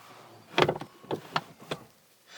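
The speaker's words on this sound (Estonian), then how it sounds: "ma saan selle ukse siit nupuvajutusega kinni panna" A Rolls-Royce Ghost Series II door closing electrically at the push of a button: a series of close mechanical whirs and clicks as the motor pulls it shut, ending in a soft latch, with no talking.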